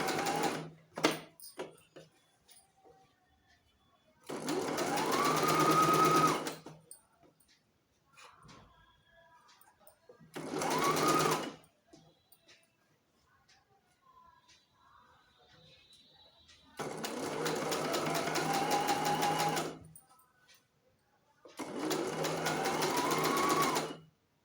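Domestic sewing machine stitching a baby frock in several separate bursts of a few seconds each, close and clear, with quiet pauses and faint handling noises between runs.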